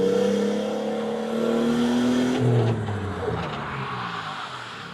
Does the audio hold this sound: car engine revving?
yes